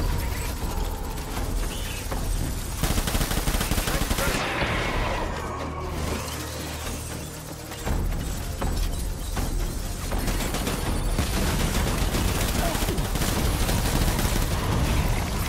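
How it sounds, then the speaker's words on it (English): Dense gunfire in a warzone boss fight in Death Stranding on PS4, a steady loud barrage of overlapping shots and bursts filling the whole stretch, with a brief lull in the middle before the firing resumes. "I'm terrible at shooting, man."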